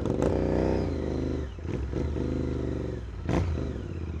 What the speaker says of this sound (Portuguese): a ponteirinha mini ponteira que eu e meu amigo Dalmas, que tem a Interceptor, também compramos